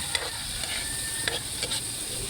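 Squid sautéing in a pan while being stirred, with a steady sizzle broken by a few short scraping clicks from the spoon, close and moderately loud, no voices.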